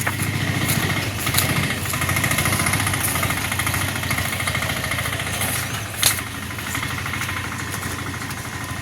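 A motorcycle-type engine idles steadily nearby throughout, a constant rumbling drone with a brief louder burst near the end and no talk over it.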